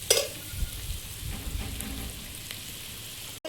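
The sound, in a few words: sautéing tilapia fish curry with spices in a pan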